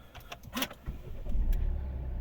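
A Volvo V60 facelift 2.0 D4 diesel engine with automatic transmission cranks briefly and catches, settling into a low steady idle after a few clicks, close by with no talking.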